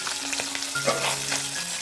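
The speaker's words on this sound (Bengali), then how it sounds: "মাছ কিন্তু ওখানে ভাজা হচ্ছে" Hilsa fish and fish roe fry in hot oil, sizzling loudly up close with sharp pops and crackles over a constant hiss.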